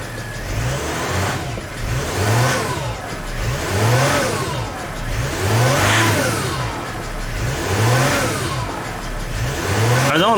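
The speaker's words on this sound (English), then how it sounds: "let me start the car and see" A car engine revs repeatedly in a steady rhythm, rising and falling about every two seconds, loud and close with no talking, on a Mercedes GL320 with a turbo actuator fault and low power.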